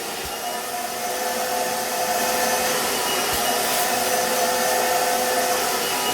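A Screwfix Titan vacuum converted to a wet vac runs steadily with loud, continuous suction and extraction roar, a constant whine throughout with no talking.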